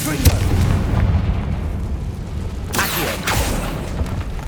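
A Confringo spell blasts in the video game Hogwarts Legacy, heavy booming impacts with rumbling low-end bursts, one near the start and another around the three-second mark, loud and close over continuous game noise.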